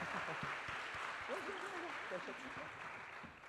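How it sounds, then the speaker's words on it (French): A crowd applauds steadily in a dense, continuous wash of clapping, welcoming a young woman on her last day of an internship, while a voice talks over the noise partway through. "Valissou qui est caché derrière, on va applaudir."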